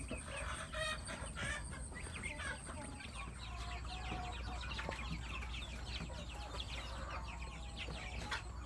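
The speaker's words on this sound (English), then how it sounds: "But as you can see, they're really active" Freedom Ranger meat chickens around five weeks old cluck and chatter continuously in a pen, with many overlapping calls close by and a steady low background hum.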